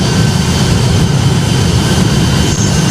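Boeing 757 jet engines at takeoff thrust in the flight game Project Flight, a loud, continuous broadband roar that holds steady throughout without speech.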